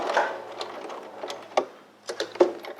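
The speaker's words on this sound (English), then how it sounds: "Take that out, continue sewing." A sewing machine stitches along a fabric seam edge in short bursts of mechanical whirring, with brief pauses between runs, close and fairly loud, no talking.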